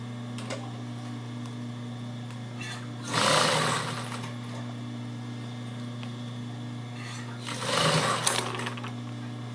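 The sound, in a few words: sewing machine stitching bias binding on a toiletry bag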